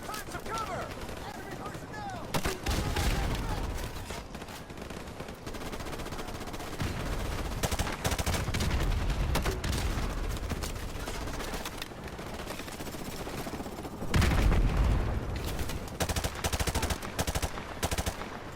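Gunfire in the video game Call of Duty: Modern Warfare Remastered, with rapid machine-gun bursts and repeated shots that come in clusters and swell to loud volleys, the heaviest near the middle and end.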